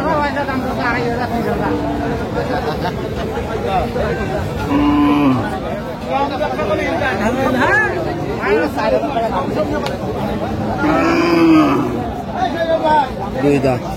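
Cows and calves moo repeatedly over a busy crowd, with people chattering and bargaining close by, a lively open-air cattle market din at Aftabganj haat.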